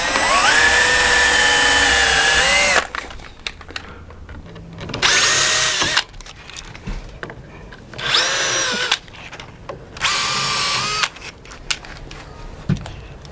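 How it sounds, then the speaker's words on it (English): Power drill pre-drilling a wooden plantation shutter frame: four loud bursts of high whining revving, each lasting one to two seconds, separated by short pauses with quieter handling noises, close up and with no talking. "So now I've pre-drilled the frame,"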